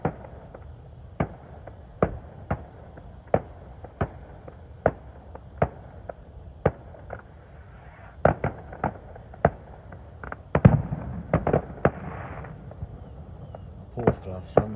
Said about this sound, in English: If you can see them fireworks going off over there,